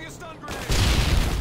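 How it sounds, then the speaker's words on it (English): A stun grenade going off in a multiplayer shooter game, a sudden loud burst about two-thirds of a second in that leaves a dense, ringing roar trailing to the end. "Throwing a stun grenade."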